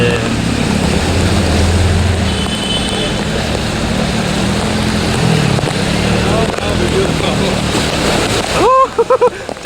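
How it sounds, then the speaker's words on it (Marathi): A strong wave of floodwater surges along a flooded Nalasopara street with a loud, continuous rushing wash close by. Voices shout over it near the end. "लाट आली एवढ्या जोरात"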